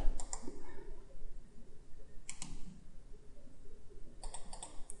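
Several quick double-clicks of a computer mouse in CAD modeling software, crisp and close, in small clusters spaced a couple of seconds apart over a faint steady background hiss.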